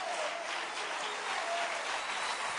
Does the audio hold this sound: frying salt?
no